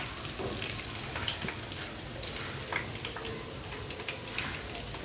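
Chicken 65 deep-frying in hot oil gives a faint, steady sizzle with scattered soft crackles and pops, continuous and low in level throughout.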